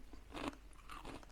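Close, quiet crunching of a brittle German peanut cookie being chewed, with a couple of crisp bites and softer grinding between them.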